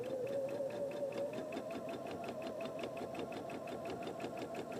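A sewing machine runs steadily, stitching fabric with orange thread for quilt piecing, its fast even needle rhythm buzzing close and continuous without pause, no voices over it.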